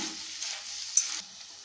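Brinjal and tomato curry seasoned with salt and chilli powder steadily sizzling and simmering in a pan, a continuous close hiss with a soft stir partway through and no talking.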